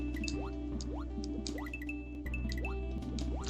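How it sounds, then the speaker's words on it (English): Swimming sounds from the underwater stage of Super Mario Bros. 1, short bubbly blips with rising chirps repeating every half second or so over looping game music. "Oh, janky SMB1 water swimming."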